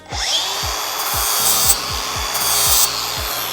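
A lawn mower blade gets a deburring pass along its back with a power grinding tool, giving a loud, continuous motor whine with steady rubbing and grinding over it, rhythmic rasping strokes, and no talk.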